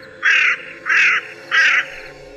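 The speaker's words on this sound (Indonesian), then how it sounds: "Gagak itu kembali berisik." A crow caws three times in a steady rhythm, loud and close, over a quiet background with no talking.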